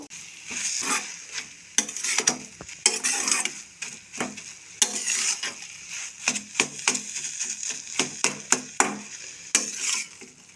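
Carrots with grated ginger and green chili sautéing in a pan, sizzling loudly while a spatula scrapes and stirs in quick irregular strokes, close and clear without talk.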